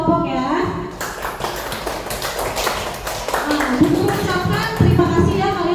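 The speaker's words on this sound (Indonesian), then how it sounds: "Beri tepuk tangan untuk ketiga kelompok ya." Students in a fourth-grade classroom clap for three groups, with rapid scattered claps and taps mixed with children's voices and chatter.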